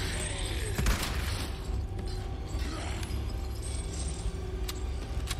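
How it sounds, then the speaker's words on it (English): Metallic rattling and jangling of chains in the Resident Evil 4 Remake video game, mixed with game sound effects and a continuous rumbling background. "You hear me dangling the chains"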